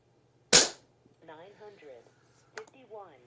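One sharp, loud crack from an Umarex Gauntlet 2 air rifle, close by and dying away quickly, followed by someone speaking quietly.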